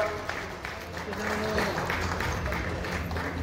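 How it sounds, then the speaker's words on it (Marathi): Applause for the Jagtap family at a Saswad municipal council felicitation event, a crowd clapping steadily and fairly softly throughout, with a room murmur beneath. "एकदा जोरदार टाळ्या या जगताप कुटुंबांच्या योगदानासाठी सासवड नगरपालिकेच्या"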